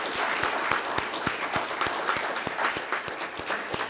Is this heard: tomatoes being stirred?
no